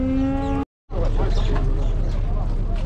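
A cow moos with a steady, tonal call at a busy Merke-Atabek livestock market. The call opens the clip and is cut off after a short break. Loud crowd babble and market noise follow.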